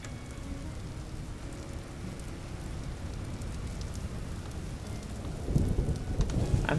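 Steady rain pours in the video game Vintage Story during a lightning storm, a dense hiss with low rumbling thunder throughout and a sharper, louder thunder crack near the end, with no voices.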